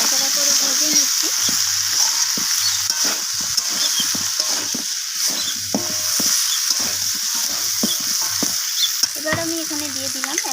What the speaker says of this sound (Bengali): তো সমস্ত কিছু মশলা আমি সবজির সাথে এইভাবে নাড়াচাড়া করে ভেজে নিচ্ছি।